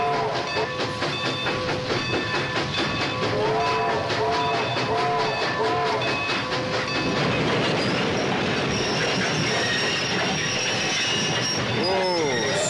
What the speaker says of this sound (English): One of the steam trains is leaving, John, and it's heading right this way.